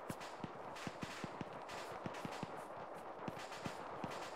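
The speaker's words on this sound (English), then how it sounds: "That is a lot of gunfire." Faint, distant gunfire crackles through a military video game, scattered single shots popping irregularly over a steady wash of background noise.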